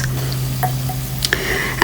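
Marinated mutton is tipped into a pressure cooker of cooking tomato for mutton biryani, giving a brief wet squish and a few soft drips and knocks over a steady low hum.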